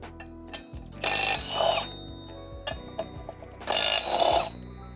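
A ratchet works 17 mm nuts off a Honda Shadow motorcycle's rear sprocket. Quick close clicking bursts alternate with two louder, longer metallic rasping spells, in quiet surroundings with no talk.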